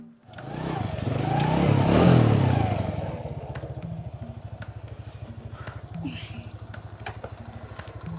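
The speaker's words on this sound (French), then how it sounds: "Faut que je rentre la moto." A motorcycle engine revs up loudly at first, then settles into a steady, close-up idle with regular low pulses, while voices talk nearby.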